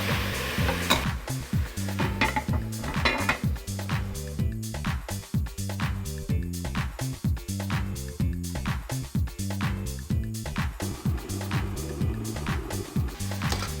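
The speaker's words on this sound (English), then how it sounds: "you're hearing that sizzling sound that it's making" Pork for Geera pork sizzles steadily in a pan, with repeated stirring scrapes and knocks forming a busy, close, loud texture throughout.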